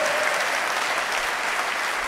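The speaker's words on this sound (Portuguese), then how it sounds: "Você pode aplaudir o Senhor, querido?" Church congregation applause during an evangelical sermon, a full, even roar of many people clapping together throughout the short stretch, with no talk over it.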